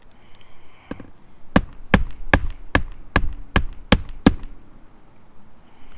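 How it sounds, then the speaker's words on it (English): A hammer drives roofing nails into a roof in a quick run of eight sharp, evenly spaced strikes, loud and close, preceded by a lighter tap and followed by quiet. "I'm gonna bury these nails"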